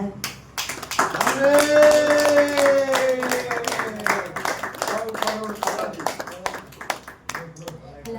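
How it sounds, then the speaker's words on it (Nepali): An audience claps to welcome a father, a quick patter of close hand claps running through the whole stretch while voices talk over it. "सबैजना मम्मी बुवाले ताली बजाउनु होला।"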